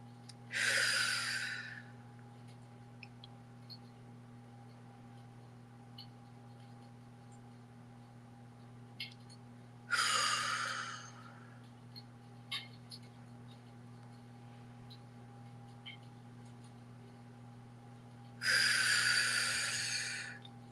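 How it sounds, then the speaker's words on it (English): Three slow, deep breaths during a guided meditation, each a soft, airy exhale through parted lips, spaced several seconds apart over a faint steady hum. "let's close as we begin with 3 deep breaths. Hold at the top and exhale with parted lips."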